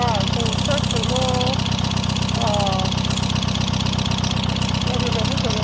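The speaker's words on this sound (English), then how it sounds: "It's a misfire. So let it run for a while to check to know." Car engine running steadily with a misfire, after damage from a bad-quality head gasket, a constant loud idle drone with uneven knocking texture, while people talk faintly over it in the background.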